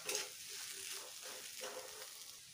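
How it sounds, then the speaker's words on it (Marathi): A spoon stirs a salted mixture of fresh green peas in a hot pan, with soft scraping strokes over a gentle, steady sizzle, close and alone. "व्यवस्थित हलवून एकजीव करून घ्यायचं।"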